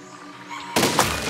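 A single cannon fires in the physics building game Besiege: one sudden, loud, deep thunk that swells into a broad rushing burst and lingers to the end, following a quieter hum.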